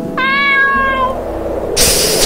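Cat meowing inside the video game Be The Slenderman: a single clear, drawn-out meow rises and fades over about a second, followed by a brief burst of noise, with no talk.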